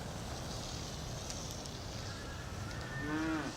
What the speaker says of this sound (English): Ah, so here you go, cattle.